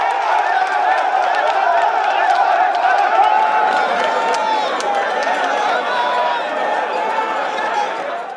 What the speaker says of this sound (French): Un ouf de soulagement pour la population qui s'est exprimée à travers cette liesse.